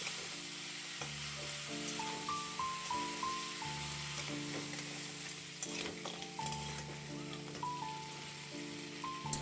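Marinated crab fries in hot mustard oil in a pan, giving a continuous hissing sizzle with occasional stirring scrapes. Melodic background music plays throughout.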